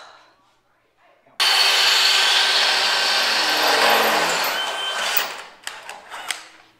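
A power drill grinds loudly and steadily into oiled metal on a Chevy C10 frame for several seconds, then stops, followed by a few brief clanks.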